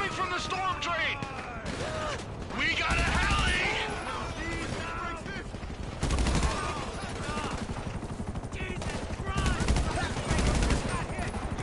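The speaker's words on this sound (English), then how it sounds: "waving around their gun and just firing" Gunfire in GTA Online: repeated bursts of automatic shots that swell and fade across the span, with mechanical rumble and chaotic street-fight noise underneath.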